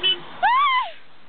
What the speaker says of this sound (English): See, people just fucking honk out of nowhere.